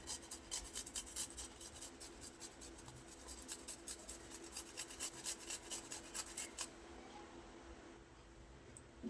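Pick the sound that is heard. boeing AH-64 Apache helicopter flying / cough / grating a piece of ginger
grating a piece of ginger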